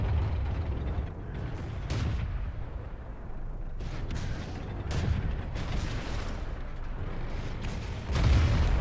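Tank guns firing in World of Tanks, with an M6 heavy tank in the fight: a dense, rumbling battle bed with several sharp booming shots at irregular intervals and a heavier blast at the end, with no talk.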